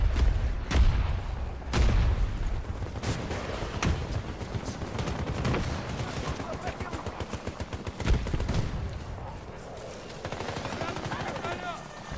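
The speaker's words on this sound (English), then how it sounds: "Here comes his TV missile or whatever." A TV-guided missile closes in during a Battlefield 2042 tank fight, amid a loud, dense battle din of rapid gunfire bursts and heavy blasts that continues without a break.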